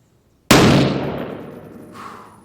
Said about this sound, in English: here we've got the rifle owner trying a couple of rounds after adjusting a scope